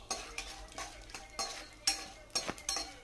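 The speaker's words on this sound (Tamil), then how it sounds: "இப்போ இது கூட பச்சை வேர்க்கடலை எடுத்திருக்கேன். இதை சேர்த்துக்கலாம். இதையும் நல்லா ஃப்ரை பண்ணி விட்டுக்கோங்க." Raw peanuts are fried and stirred in a pan for mint rice, with about eight quick, rhythmic scraping strokes of a spoon against the pan up close and no talk.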